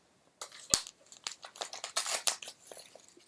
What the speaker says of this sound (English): So I'm cutting off quite a fair amount there, so about there I'd say.